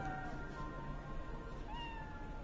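A hairless cat in Cyberpunk 2077 gives a couple of short, soft meows over a dense, noisy game background.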